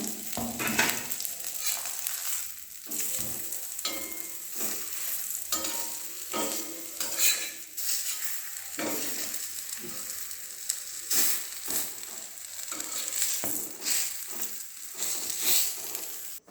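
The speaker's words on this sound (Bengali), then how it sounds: "ঘি দিয়ে ফ্রাই করছি।" A paratha fries in ghee in a pan with a continuous soft sizzle. Repeated scraping and clicking of a utensil against the pan runs throughout, close but fairly quiet.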